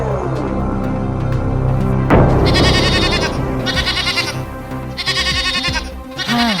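A goat bleats loudly and repeatedly in a dramatized story, its wavering cries rising over a busy musical background with sound effects.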